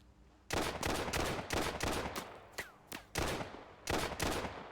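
USP pistol firing in a video game, a rapid series of loud, sharp shots in bursts with brief gaps between them, with no talk over the shots.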